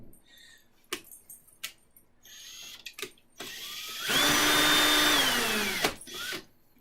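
A handheld power drill with a 1/2 inch bit spins a milling table crank, preceded by clicks and clunks of handling, then a steady whining run for about two seconds before stopping.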